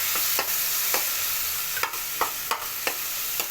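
Tomatoes with turmeric stirred in a hot pan, a spoon scraping in a loose rhythm of about a dozen short strokes over a steady soft sizzle, close and fairly quiet, with no talking.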